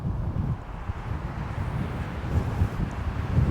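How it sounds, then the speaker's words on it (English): Wind blowing across the open high desert at the Very Large Array radio telescope site in New Mexico, a steady low rushing buffet on the microphone, no voices. "Ooh, wind's picking up a little bit."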